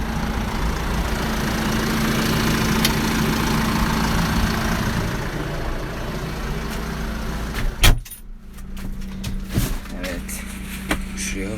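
A Deutz Fahr 185 MF tractor engine idles steadily in a farm setting with a constant low drone and hum, then a loud thump and rattle break in near the end before the engine carries on more quietly.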